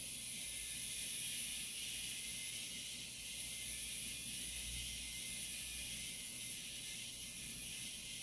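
Finishing Touch Flawless Nu electric razor running steadily in a shaving pass, a close, even high-pitched buzzing hiss with a low motor hum beneath, continuous and alone for the whole stretch.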